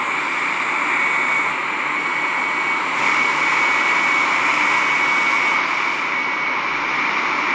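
Boeing 747 jet engines in the Simple Planes video game roar steadily and loudly through a landing, a constant whine and rush with no talk.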